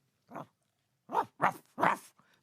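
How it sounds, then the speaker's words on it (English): A dog named Spanner barks excitedly, one bark followed by a quick run of three louder, close barks, with a small soft sound trailing at the end. "Barked Spanner excitedly."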